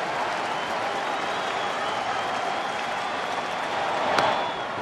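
A baseball stadium crowd at a Rockies–Brewers game in Milwaukee gives sustained, steady applause and cheering, a dense wash of clapping and voices that swells slightly near the end.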